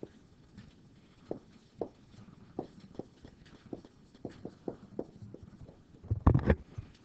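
Marker or chalk strokes on a board during a math lecture on function behavior, a series of separate short scratchy taps and swipes at an irregular pace, close and fairly quiet, ending with a louder burst of handling noise.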